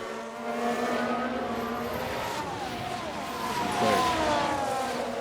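A Ferrari Formula 1 race car at the Australian Grand Prix in F1 Manager 2022 makes a high, whining engine note that climbs and falls through gear changes, loud and continuous, with a faint voice underneath.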